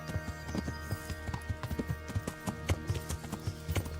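Horse hooves clip-clop at a walking pace in the medieval video game Kingdom Come: Deliverance, a steady, close rhythm of hoof falls that runs for about four seconds with no voices.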